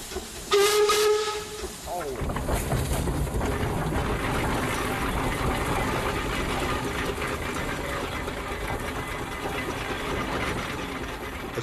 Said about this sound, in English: Want to blow the whistle?